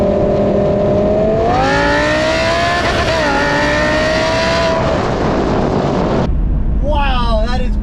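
An Audi R8 V10 Plus with a Valvetronic aftermarket exhaust and no rear bumper screams up and holds a loud, rising whine for several seconds, then cuts off with crackles as it drops back to idle.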